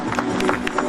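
A church congregation claps in welcome during a worship service, a dense, steady round of applause from a crowd filling the room at close range.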